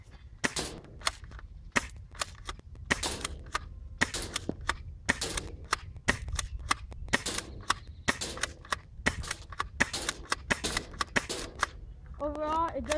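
An ASG Franchi SPAS-12 airsoft shotgun is racked and fired in a long run of sharp, close snapping shots with mechanical clacks between them. A voice talks over the shots throughout.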